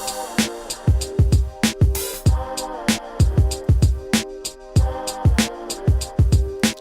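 A hip hop drum pattern built in EZdrummer plays punchy kicks and snappy hits in a steady loop, with a quick run of tom hits forming a fill, loud and close with no voices.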